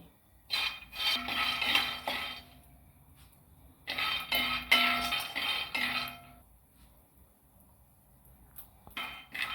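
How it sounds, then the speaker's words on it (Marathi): Peanuts roasting in a pan over a low gas flame for sesame poli, giving bursts of rattling, clinking stirring against the metal, close and fairly loud, with quieter pauses between, no voices. "शेंगदाणे पण चांगले बारीक गॅसवर लाल होते असे करपला निघेपर्यंत भाजून घ्यायचे।"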